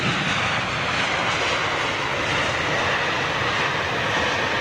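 A passenger airliner touches down at London Heathrow, its engine roar broad, steady and loud for the whole stretch, with no talk over it.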